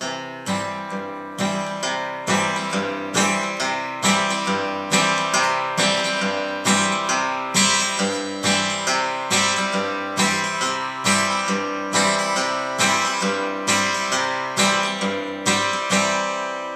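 A guitar strums a steady chord pattern while the bass note bounces between two low strings in a regular, even rhythm, played close and clear.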